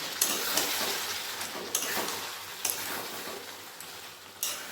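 Mutton sautéed with onions and melted tomato in a pot over a high gas flame gives off a steady, close sizzle, with occasional sharp scrapes and clicks of stirring.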